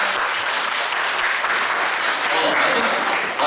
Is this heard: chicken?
no